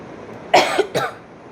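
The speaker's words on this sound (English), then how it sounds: "sorry for coughing." Two sharp coughs in quick succession, close and fairly loud, with nothing else around them.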